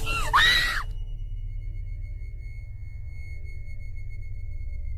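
Brief high-pitched scream from frightened people in a dark, eerie setting, erupting at the start and cutting off within a second, leaving a steady low rumbling hum.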